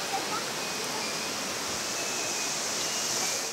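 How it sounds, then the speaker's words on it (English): Waterfall cascade at the end of the dry season in El Parque de los Chorros, Caracas, a steady broad rushing hiss of falling water, even and continuous throughout. "What you see behind of me is a cascade at the end of the dry season."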